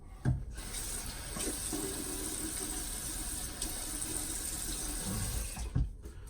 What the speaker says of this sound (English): Let me go ahead and rinse off a little bit.